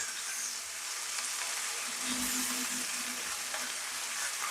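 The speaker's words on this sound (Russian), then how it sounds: "вот до такого состояния мы жарим лук и грибы" Onions and mushrooms sizzle and crackle steadily in a hot pan, a constant bright frying hiss with no voices.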